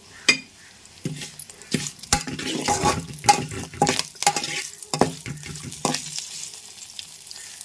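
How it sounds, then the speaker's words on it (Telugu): Ajwain and cumin frying in a pan, with sharp spoon knocks and scraping stirs over a soft sizzle, uneven bursts of clatter coming close and fairly loud. "చూసారుగా చక్కగా వేగింది కదండి వాము"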